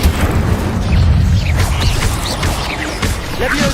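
Incendio fire spell bursting in Hogwarts Legacy on PS5, a loud, dense booming blast that rolls on continuously amid layered magical crackles and whooshes, with no pauses.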